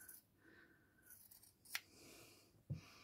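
Quiet scissors snip through fabric, a couple of sharp cuts separated by soft rustling in an otherwise still room.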